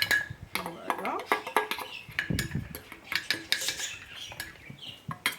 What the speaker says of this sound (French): Je referme mon bocal